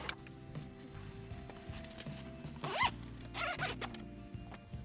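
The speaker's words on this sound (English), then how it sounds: "There's a zipper." A close zipper on a Mercedes Sprinter 170 camper van is pulled in a couple of quick rasping strokes, with rustling fabric and a low background hum around it.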